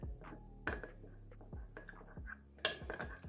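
A spoon stirs cornflour into chicken stock in a bowl, giving a few sharp clinks against the side amid softer scraping. It sounds close and moderately quiet, and no one speaks.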